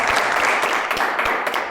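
An audience claps together at a lively Saturday afternoon game show where fathers compete, giving a short burst of dense, steady applause close by.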